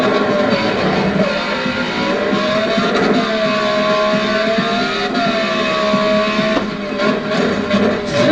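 A Ferrari Challenge race car engine at high revs on a circuit, a loud, sustained howl with rising and falling pitch through gear changes, heard close and continuous.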